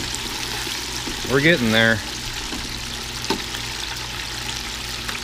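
Chicken frying in a deep fryer gives a continuous low sizzle and bubble, broken by a brief stirring splash; a voice speaks over it briefly.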